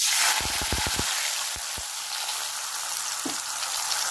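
Spice paste of chili, tomato and ginger paste frying in a pan, a steady bright sizzle throughout, with a quick run of low knocks early on and a couple more thuds as it is stirred.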